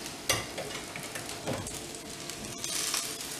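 Braised chicken sizzles and spits in oil on a flipped grill, a steady close frying hiss with small crackling bursts and no talking.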